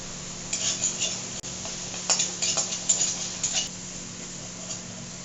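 A metal spoon scrapes and stirs thick spice paste with Kashmiri chilli powder in a pan, producing intermittent rubbing and clinking strokes in short bursts, with one sharp tap partway through, close and moderately quiet, with no one talking.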